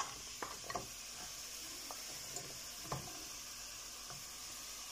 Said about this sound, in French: Les courgettes sont en train de cuire.